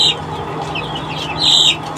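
Arab Katu Brahma chickens, a pair including a rooster, cluck in a coop with a steady low hum underneath, and a brief louder burst of calls comes near the end.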